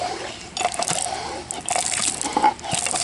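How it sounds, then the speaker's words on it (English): An electric pump draws water from a newly jetted shallow well, a splashy, gurgling flow of water with uneven surges and drips, fairly close and loud, with no talk. "Now, I'm going to hook that electric pump up to it"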